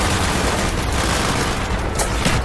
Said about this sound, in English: Firing mortar!